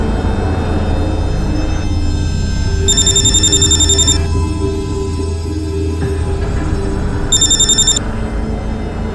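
Telephone ringing on the line as a call is placed, two bursts of a bright electronic ring tone separated by a pause, heard over a steady low background hum with no talk.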